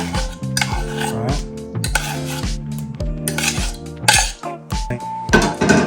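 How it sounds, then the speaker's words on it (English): Mashed banana mixture being combined with creamed sugar and butter in a bowl for banana bread, heard as repeated close clinks and scrapes of a utensil against the bowl in an uneven rhythm, with no speech. "you combine the banana mixture and the cream, sugar and butter"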